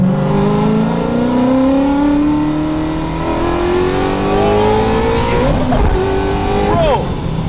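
A supercharged Ford GT350R engine roars loud and close, its pitch climbing steadily through a long pull before dropping sharply and rising again with quick blips of rev-matched shifts.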